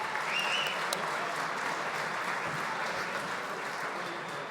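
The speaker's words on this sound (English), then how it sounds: "Let's give a round of applause for our incredible Gym Youngers." Sustained, dense audience applause rings out for young performers at the Today's Kids, Tomorrow's Stars 2024 show, with a thick wash of clapping that stays loud and even from start to finish.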